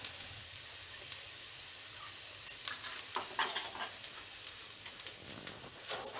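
Fried rice stirred in a hot pan, a soft steady sizzle under scattered scraping and clinking of a utensil against the metal, close and moderately quiet.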